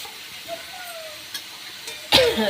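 Chicken pieces dropped into a pan of fried spice paste set off a sudden burst of loud sizzling at the end, following quiet stirring and faint kitchen sounds.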